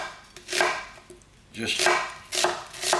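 Kitchen knife chopping onions on a board for chilli con carne, in bursts of quick close crisp cuts separated by short pauses, with a brief spoken word.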